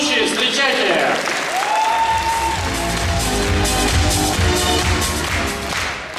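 Loud, sustained applause from a crowd at a KVN comedy contest show, dense clapping continuing throughout with music or voices faintly underneath.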